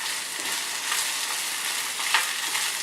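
Kerala-style beef fry with dried chilies is stirred in a hot pan, giving a close, bright, even sizzle with a small scrape near the end.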